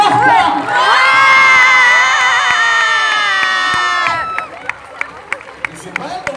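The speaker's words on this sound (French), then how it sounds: "je vous demande d'applaudir Héloïse Martin" A theatre audience at a film preview event in Lyon Brignais cheers loudly and steadily, with shouts and whoops rising together for about three seconds before fading into scattered claps and voices.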